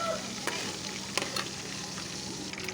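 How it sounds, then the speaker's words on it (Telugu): Dry fish frying in hot oil in a pan, a steady close sizzle running throughout with a few brief stirring clicks and scrapes, no voices. "ఏ డ్రై ఫిష్ అయినా ముందుగా ఈ విధంగా వేయించుకోండి"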